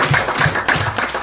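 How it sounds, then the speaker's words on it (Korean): Church congregation applauding during a worship service, a steady burst of many hands clapping together in a room, dense and fairly loud, with no talking. "우리 한번 박수 한번 쳐주세요."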